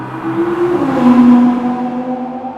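A 2020 Audi R8 V10 quattro engine revving hard after a three-gear downshift, a loud close rising howl that swells and then holds steady, with no talk.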